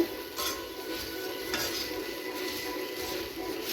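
A sweet puffed rice mixture being stirred in a pan after the stove is turned off, with soft scraping and light clinks of a spoon against metal over a faint background hiss.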